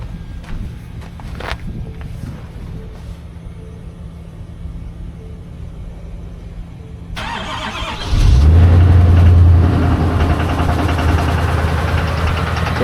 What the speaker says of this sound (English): Can you hear the noise of the motor because it's cold?